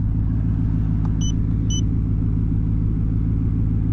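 A Ford F-150 pickup engine idles after a throttle position sensor fix, a steady low rumble with even, unchanging revs, close and loud, with two brief electronic beeps early on.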